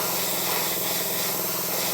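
Steady, continuous hiss of an airbrush spraying thin, gentle coats of paint onto a Bandai 1/72 scale Y-Wing model kit, close and unbroken throughout, with no voices.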